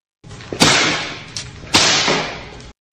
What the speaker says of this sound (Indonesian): Ye Ziqing mengayunkan cambuknya, dan suara nyaring terdengar.